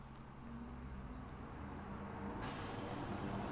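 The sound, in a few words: garbage truck outside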